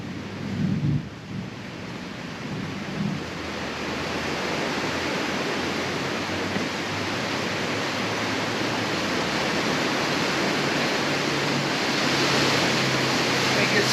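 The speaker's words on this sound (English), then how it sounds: "it's pouring down rain" Heavy pouring rain makes a dense, loud, continuous roar that builds slightly over time, with a little faint activity near the start.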